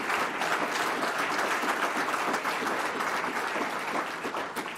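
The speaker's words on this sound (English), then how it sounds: "So give Mildred a round of applause." Audience at a labor union event applauding Mildred, a full room clapping in a dense, sustained burst that slowly thins near the end.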